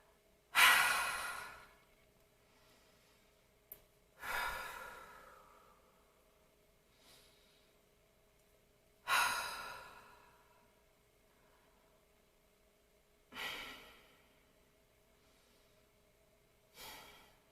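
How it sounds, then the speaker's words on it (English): Five slow, deep breaths come close to the microphone, each a soft breathy rush a few seconds apart, separated by near silence, with no talking. "we could take those 5 breaths together."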